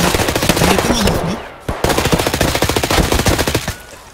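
Rapid automatic gunfire in Escape From Tarkov, loud close bursts of sharp shots in quick rhythmic succession, a brief pause, then another long burst of fire.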